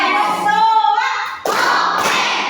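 Schoolchildren in a classroom clap their hands in rhythm. A group voice comes first, then two bold bursts of clapping follow about half a second apart.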